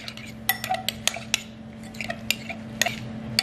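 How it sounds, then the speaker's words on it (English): A spoon clinks against a bowl while stirring salsa with ancho chili powder mixed in, a string of light, sharp taps and scrapes at close range, quiet and without speech. "Now it's just a matter of stirring it together."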